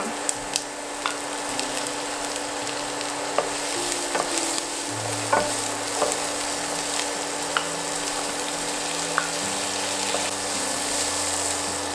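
Shrimp go into a frying pan with onion and sizzle in a steady, close hiss. Frequent small scraping clicks from stirring sound over it throughout.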